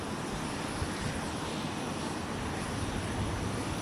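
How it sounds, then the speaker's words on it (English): A heavy jet airliner departing Minneapolis–St. Paul for Paris Charles de Gaulle gives off a steady, loud engine roar, broad and unbroken across the whole stretch, with no one talking. "635 Tango Heavy departs for Paris Charles de Gaulle off of 128"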